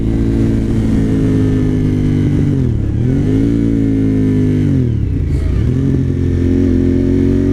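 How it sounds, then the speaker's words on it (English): A high-mileage Suzuki TL1000R motorcycle with about 150,000 miles roars loudly and close as it accelerates hard, its engine note rising and dipping through quick gear changes. "how easily this bike wheelies and how like powerful this bike still is"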